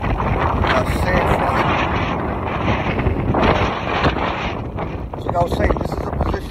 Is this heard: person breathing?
no